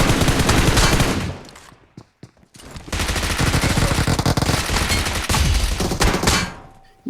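Dense automatic gunfire from two enemies in a battle royale video game rattles in long, rapid bursts, pausing briefly with a few isolated shots before resuming loud and sustained.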